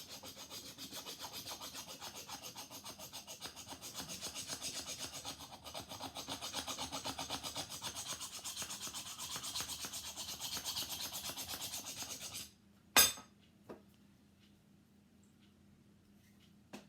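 A rag rubbing steadily back and forth over a rusty tool soaked in WD-40, a continuous close scratchy scrubbing that stops abruptly, followed by a single sharp knock and a faint later tap.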